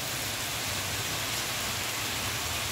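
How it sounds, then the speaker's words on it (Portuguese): Good afternoon rain in Acopiara, Ceará, a dense, steady hiss of heavy rainfall on surfaces, loud and continuous with no voices. "Tarde de quinta-feira com a chuva boa por aqui."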